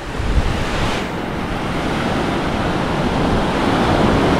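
Ocean waves break on a Jamaican beach in a small cove, a close, continuous roar of surf with a heavier crash at the start and no voices.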